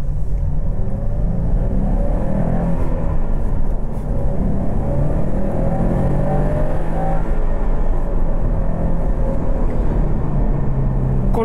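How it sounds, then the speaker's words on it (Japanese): A Subaru WRX STI's EJ20 turbocharged flat-four engine hums and rumbles steadily throughout, a low continuous drone with slight rises in pitch, close and fairly loud. "この EJ20 型水平対向4気筒ターボエンジンはですね、308馬力と43キロのぶっといトルクを持ってます"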